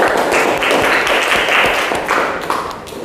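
Classroom clapping for a student group after a physics-lesson aromatherapy candle project, a dense steady patter of many hands lasting about three seconds before thinning out.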